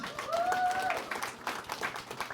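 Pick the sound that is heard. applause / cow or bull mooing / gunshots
applause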